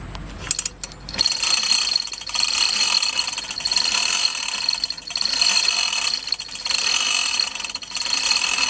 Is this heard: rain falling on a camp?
no